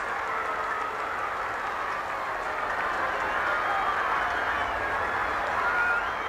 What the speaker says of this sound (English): Listen to that crowd go mad.